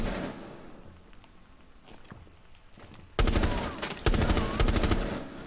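Gunfire in Rainbow Six Siege starts faint and muffled, then bursts into loud rapid automatic fire near the end as shots go through a wall.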